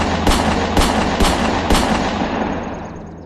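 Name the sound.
six gunshots sound effect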